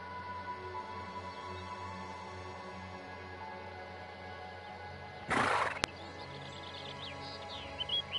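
A horse in a video game gives a short, harsh snort or whinny burst against a steady ambient game bed, with faint bird calls scattered afterward; no hoofbeats stand out clearly.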